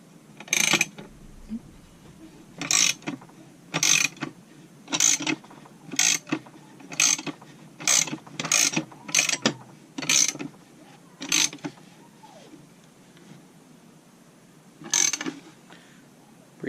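A ratchet cranks down bolts on a 394 engine case, giving repeated short bursts of clicking pawl noise spaced a second or two apart, close and fairly quiet, with no talking.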